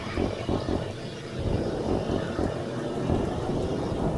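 Jet aircraft in Battlefield 3 in flight, a broad roaring rush of engine and wind noise that stays loud and sustained, swelling slightly toward the end, with no talk.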